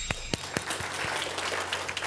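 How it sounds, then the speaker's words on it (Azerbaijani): Applause from an audience at a talk by a psychologist and mediator, starting with a few sharp, separate claps before settling into a softer, continuous patter of many hands at moderate distance. "Bu alqışlar hamınızındır."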